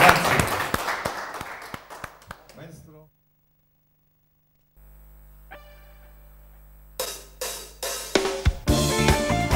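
Live TV studio audience applauding a singer's performance: two bursts of close, crackling handclaps separated by a few seconds of near silence, the second burst building again toward the end.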